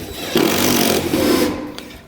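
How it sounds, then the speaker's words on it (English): A quarter-inch nut driver with a 5/16 bit drives 3/8 tech lag screws into the floor while anchoring a steel lift frame, giving a close, loud, whirring power-tool run that pauses briefly and then spins down. "We take a quarter inch nut driver with your 5/16"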